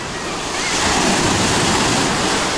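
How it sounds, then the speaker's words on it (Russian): Waves breaking on a sandy beach at a Turkish resort roar loudly and close, swelling after the first moment into a continuous heavy rush of surf mixed with some wind buffeting. "Волны есть, но они не опасные,"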